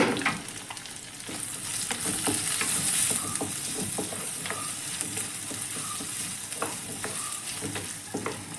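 Chopped small shallots frying in a pan for an okra (ladies finger) dish, a steady close sizzle running throughout with occasional scraping stirs and no voices.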